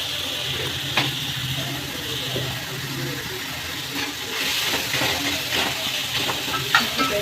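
Tomatoes sauté with salt in a pan for a chutney, giving a soft steady sizzle and hiss with occasional stirring scrapes, close and fairly quiet, with no voices.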